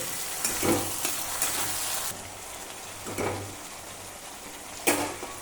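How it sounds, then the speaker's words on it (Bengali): Chicken pieces fry in hot oil for chilli chicken, making a loud, crackling sizzle close by. Bursts flare each time a piece drops in, over a constant hiss, with a sharp spit near the end and no talk. "এরপর দেখো বন্ধুরা আমরা মাংসটা একটা একটা করে এখানে দিয়ে দিচ্ছি"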